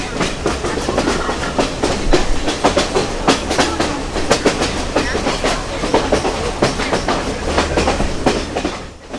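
Train ride from Kandy to Ella in Sri Lanka: a steady, close rumble of railcars with a dense, regular clickety-clack of wheels over rail joints running throughout, no voices.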